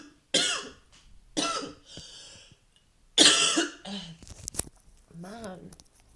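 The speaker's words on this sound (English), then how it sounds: "this cough is driving me absolutely potty" A person coughs hard several times at close range, each harsh burst followed by a quieter, rougher throat sound, with short silent gaps between the fits.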